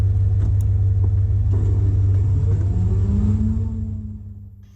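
An off-road competition car pulls away after a winch stage, its engine rumbling loudly up close and revving as it accelerates, then fading into the distance.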